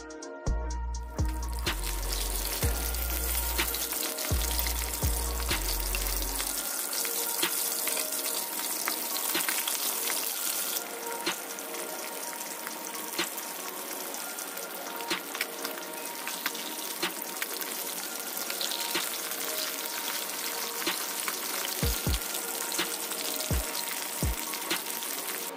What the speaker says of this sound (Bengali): মাছগুলোকে গরম তেলে ভেজে নেব।